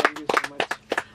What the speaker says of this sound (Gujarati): ડેફિનેટલી એકવાર જોરદાર તાળીઓ